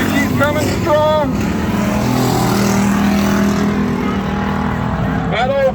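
Stock cars racing at Legacy Speedway during the 2nd annual Randy Combs Memorial, a steady loud engine roar filling the track, with a race announcer talking over it throughout.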